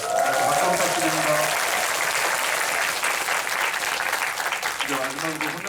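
A cinema audience at a post-screening talk for the film Hunt, in a Dolby Cinema hall at Megabox COEX, breaks into loud, sustained clapping. A voice talks over the applause at the start and again near the end.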